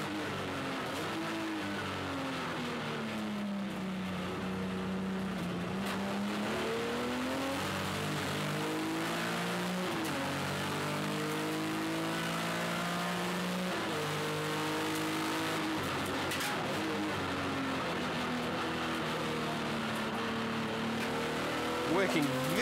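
Heard from onboard a BMW race car in an open-class race at Hampton Downs, the engine drones loudly and continuously, its pitch climbing and dropping through repeated gear changes, with a commentator talking over it.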